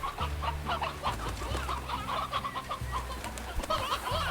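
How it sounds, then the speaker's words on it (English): Chickens cluck steadily in the video game Slime Rancher, a dense flock of overlapping calls filling the clip without any talk. "We've got a lot of chickens down here."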